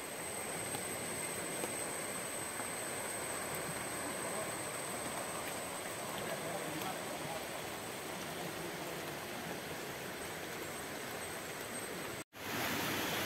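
Heavy monsoon rain pours down in Kerala as a steady, dense, unbroken roar that holds for the whole stretch, then drops out abruptly near the end before resuming.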